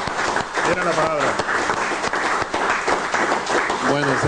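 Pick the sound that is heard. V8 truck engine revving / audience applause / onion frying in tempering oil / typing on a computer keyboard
audience applause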